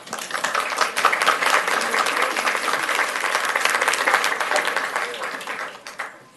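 An audience at an evening awards presentation in Fort Worth claps in dense, sustained applause that stays strong for about five seconds, then thins and fades away.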